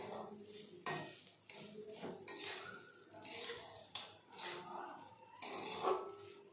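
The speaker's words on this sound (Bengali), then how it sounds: "লবণ দিয়ে খুব ভালো করে নাড়াচাড়া করে নামিয়ে নিলেই রেডি আমার ঝাল সুজি।" Spicy semolina upma with salt being stirred in a pan, a spoon scraping and clinking against the metal in repeated strokes with brief pauses, close and moderately loud, faint sizzling underneath.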